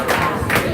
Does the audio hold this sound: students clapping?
yes